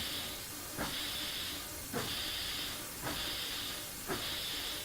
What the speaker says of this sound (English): When you've got the cylinder cocks open, you're reducing your steam chest pressure, so you're less likely to slip.